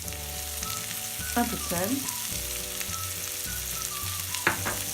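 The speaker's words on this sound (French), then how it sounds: "Dans cette poêle, vous y mettez vos oignons à suer" Onions sweating in butter in a frying pan give a steady, close sizzle throughout, with a few scraping stir sounds and a brief spoken voice over the frying.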